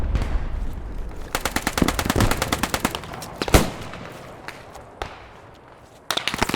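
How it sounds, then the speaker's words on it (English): Gunfire in the World War II video game Post Scriptum: rapid, sharp machine-gun bursts mixed with heavier single loud shots, close and punchy, with short pauses between volleys. "gunshots are generally louder and meatier than in Hell Let Loose"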